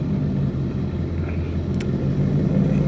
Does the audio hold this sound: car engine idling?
yes